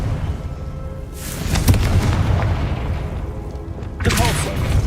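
A Confringo blasting spell in Hogwarts Legacy sets off a loud booming explosion with rumbling debris, and a second blast lands near the end, all without talk.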